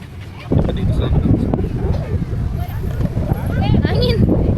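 Gusty beach wind at Lingayen buffeting the microphone in a continuous low rumble, loud and uneven, with people chatting and calling out over it.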